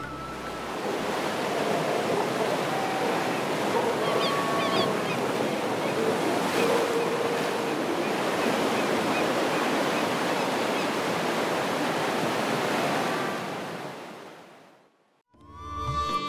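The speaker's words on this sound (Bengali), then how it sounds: "আর মুগ্ধ হয়ে শুনলাম সমুদ্রের গর্জন" Sea waves roar steadily on Lalganj beach, a loud, continuous wash of surf that holds for most of the stretch before fading out near the end.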